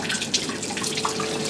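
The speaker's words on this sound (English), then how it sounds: "Octagonal fountain." Water splashes and trickles steadily in an octagonal fountain within a walled garden, a close, continuous bubbling patter without voices.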